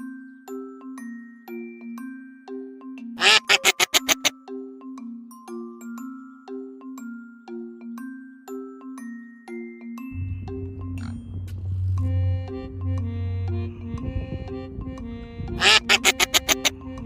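Cartoon-style duck quacks sound in short bursts for a children's animal sound adventure, set against a bouncy, repeating electronic melody with louder rattling flourishes.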